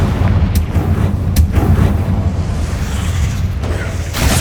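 Confringo, a fiery blast spell in Hogwarts Legacy, goes off in several sharp explosive bursts over a constant low rumble, each crack loud and close.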